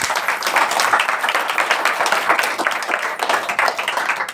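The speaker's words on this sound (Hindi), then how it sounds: "जोरदार प्रभु के लिए ताली बजाइए।" Church congregation clapping for the Lord at a Hindi-language sermon, a dense, steady burst of many hands applauding close by for several seconds with no voices over it.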